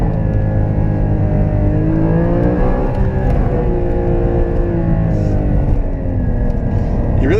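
Porsche 981 GT4 engine pulling up through the revs on a mountain road, loud and close from inside the car, rising in pitch, easing off, then climbing again, with a voice briefly heard over it.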